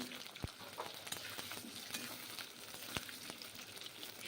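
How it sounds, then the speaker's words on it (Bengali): Thick-cut potatoes frying in hot mustard oil, a dense steady crackling sizzle with a couple of sharp knocks from stirring, close and fairly quiet. "এখন আলুগুলো প্রথমে ভেজে নেব।"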